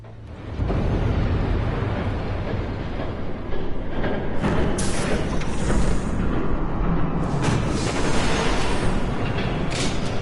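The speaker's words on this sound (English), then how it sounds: "There's a train coming." A train thunders past in the Batman Telltale video game, a loud, dense rumble that swells in quickly and roars on steadily for around ten seconds with no voices.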